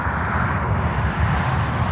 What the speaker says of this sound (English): Oh, there's a 777 coming in.